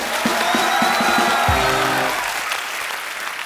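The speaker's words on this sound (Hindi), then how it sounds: "जोरदार तालियां होनी चाहिए यार" Studio audience on a Hindi comedy talk show claps and cheers for a badminton star guest, a dense burst of applause that swells with whoops and fades out toward the end.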